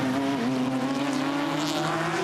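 Touring cars race on a circuit at the Townsville Tin Tops race, and a BMW closes up under braking. Engines drone loudly and steadily, with a shifting pitch as cars pass, and there is no talk over them.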